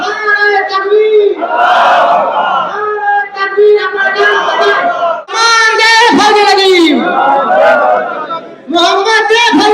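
A large crowd at an urs gathering roars back in unison to a Nara-e-Takbeer chant, loud close bursts of massed shouting rising and falling in repeated waves, with a lead voice calling between them.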